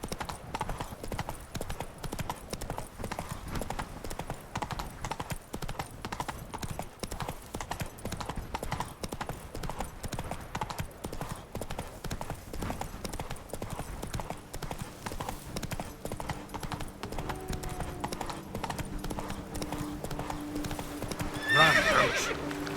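A horse galloping in The Witcher 3 video game, with rapid continuous hoofbeats close and steady throughout and a whinny near the end.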